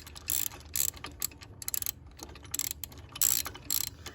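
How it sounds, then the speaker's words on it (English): A ratchet wrench clicks in short repeated bursts while loosening a bolt on a Subaru AC belt bracket, close and crisp, with quiet pauses between the ratcheting strokes. "Don't need to remove the bolt all the way, just loosen it."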